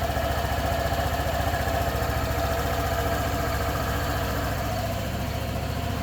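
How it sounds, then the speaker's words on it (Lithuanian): A Barton Xtrale 125 ABS motorcycle engine idles steadily close by, a continuous low, even throb with no pulsing or revving and no speech. "Jau variklį paklausyti galima."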